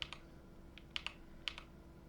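Light, quiet clicks of typing on an MCHOSE JET 75 magnetic switch keyboard, a handful of crisp keystrokes in an irregular rhythm over soft background hiss.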